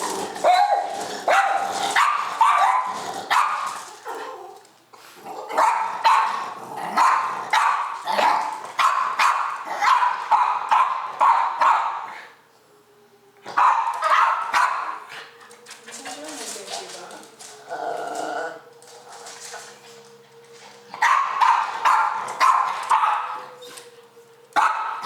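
Two fighting dogs bark repeatedly in loud, rhythmic bursts with whimpering yips, pausing briefly before barking resumes, close by, as they catch sight of each other during an assessment; people talk quietly in between.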